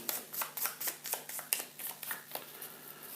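Dawn of the Zeds event cards are riffled and shuffled by hand, a quick series of crisp, rhythmic papery flutters, close and alone.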